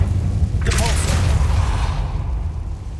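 Depulso repelling spell cast in the video game Hogwarts Legacy: a single bright whooshing burst with a low thump rises and fades within a second over steady rumbling game ambience.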